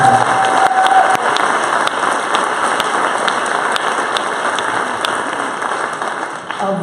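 Sustained, dense applause from an audience at a college talk by an HIV/AIDS prevention activist, a loud, steady wash of many hands clapping that runs the whole length without pause and tapers slightly near the end.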